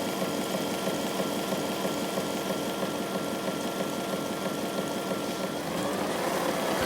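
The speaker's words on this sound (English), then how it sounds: "it's going to just send it through a washing cycle to get them nice and saturated" A Narwal T10 self-cleaning robot mop running a wash cycle on its dry mopping pads, a steady mechanical whir with pumping and watery churning, near and continuous with no talking.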